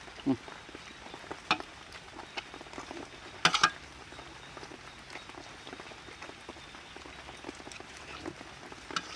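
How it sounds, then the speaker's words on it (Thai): Rain falling outdoors while mushroom curry is prepared: a steady soft patter with scattered sharper drops and a few louder knocks, close by. "บรรยากาศฝนตก"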